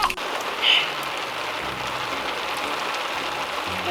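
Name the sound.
rain falling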